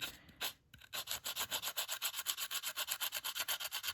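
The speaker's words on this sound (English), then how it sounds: "if you have any fuzzy pieces of wood that are remaining, try to get them sanded away" Sandpaper rubbed back and forth over small wooden project parts to remove fuzzy fibres, making a close, rhythmic scraping of even strokes after a brief opening pause, with no voices.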